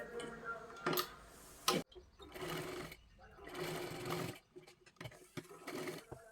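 A sewing machine runs in several short bursts of rapid stitching on blouse-piece fabric, with brief pauses between runs and faint ticking; no one speaks.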